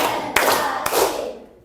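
A classroom of students claps a focus clap pattern together, two sharp group claps standing out against a continuous wash of noisy hand and room sound.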